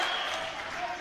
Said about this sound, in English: Got a pop from the crowd, didn't he there?